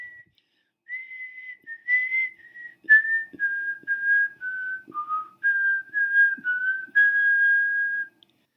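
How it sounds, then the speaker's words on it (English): A person whistles a slow hymn tune alone: clear, pure sustained notes in short phrases with small breathy gaps, fairly close and with no other sound behind them. "they would find Hudson whistling or humming tunes like Jesus Loves Me"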